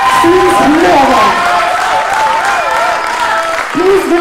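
An audience applauds a Behind the Scenes Hero Award winner at a foundation day celebration, with dense clapping mixed with cheers and loud voices calling out over it.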